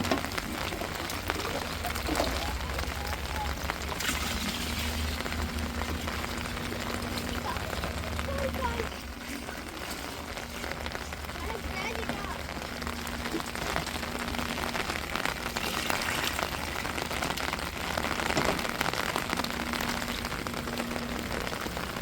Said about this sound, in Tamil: அடித்த மழையில் கேனில் நிறைஞ்சு தண்ணி சிந்துது